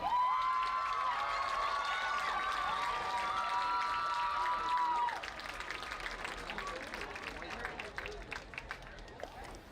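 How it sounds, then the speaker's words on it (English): Crowd applause and cheering at the 2017 Chapman University vs Whittier homecoming football game, loud clapping with shouts under an amplified announcer's voice, fading to scattered claps midway. "Please put your hands together for Nilsha Karana."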